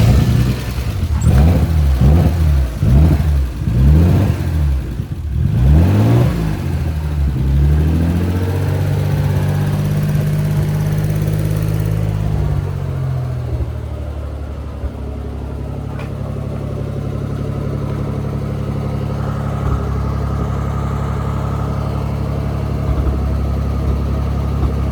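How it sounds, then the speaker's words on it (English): A Nissan Z32 twin-turbo engine cranks and catches, revving in a few rising and falling bursts before settling into a steady, rough idle close by, with a mechanic coaxing it along on the throttle. "You're gonna have to give it a little bit of throttle to"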